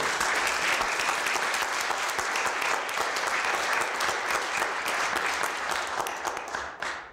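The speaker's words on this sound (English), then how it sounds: "very rarely do you hear applause in a witness room" Sustained applause from a roomful of people, dense and steady for several seconds before tapering off at the end.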